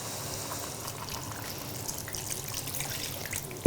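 Water pours into a pot of one-pot pasta with chicken and courgettes, a faint steady trickle under the quiet kitchen background.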